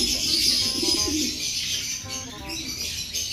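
A pair of green-cheeked conures call indoors, giving repeated chirping and cooing notes in short bursts over a steady high-pitched background hiss.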